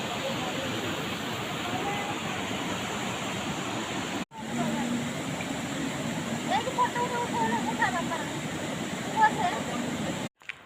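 A waterfall near a hilltop Maa Ambe temple and its kund gives a steady, broad rushing roar. The sound runs unbroken except for a brief cut, with faint voices underneath.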